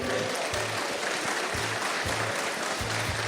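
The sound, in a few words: audience applause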